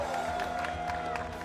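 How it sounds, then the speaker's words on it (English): Applause and cheering for women's pro doubles champions at a U.S. Open medal presentation: steady clapping from a crowd with a few whoops, moderately loud and unbroken. "A well-deserved round of applause"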